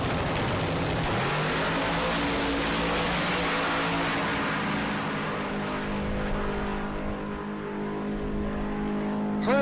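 Drag racing cars at the SRCA Dragstrip in Great Bend, Kansas, roar loudly and steadily, the engine drone fading slightly as they pull away down the strip.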